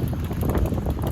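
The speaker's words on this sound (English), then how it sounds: "It's so windy." Strong coastal wind blasts steadily against the microphone, a loud, rumbling, unbroken gust for about a second.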